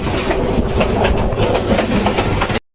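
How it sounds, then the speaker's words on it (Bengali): A Brahmaputra Express passenger train with red-and-green air-braked coaches runs over rough track, with a loud continuous rumble and rapid clickety-clack from the wheels close by until it cuts off abruptly. "ব্রহ্মপুত্র এক্সপ্রেস লাল সবুজের পিটিনকার এয়ার রেকের বহর নিয়ে চলাচল করে"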